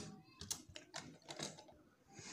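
A sewing machine stitches a kurti sleeve in quick, quiet bursts of mechanical clatter that start and stop in an uneven rhythm, close by and without talk.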